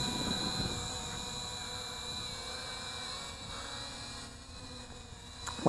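A small KFPLAN KF609 beginner drone flying steadily at low speed outdoors, its propellers giving a constant high-pitched whirring buzz that holds throughout with faint background noise.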